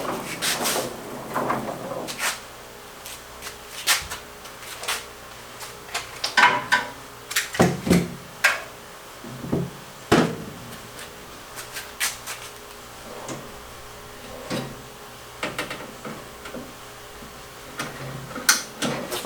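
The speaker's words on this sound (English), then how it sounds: "Next step is going to be to get the drawers back in." Metal drawers of a Harbor Freight tool chest slide and clunk into place, a series of sharp irregular clicks, knocks and scrapes over about twenty seconds, close by with occasional pauses.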